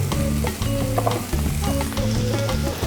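Potatoes fry slowly in olive oil and melted unsalted butter with a loud, continuous crackling sizzle, while music plays in the background.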